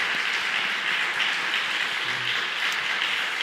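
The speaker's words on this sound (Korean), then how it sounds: "사모님 한번 우리 먼저 한번 박수 한번 보내드리고" Steady applause from a church congregation during a Korean Sunday afternoon worship service, a dense, even wash of clapping that fills the room without pause or swell.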